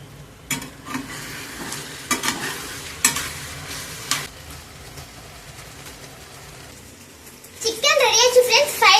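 Chicken pieces frying in oil for homemade mixed fried rice sizzle steadily while a utensil scrapes and flips them in several sharp bursts; a voice talks briefly near the end.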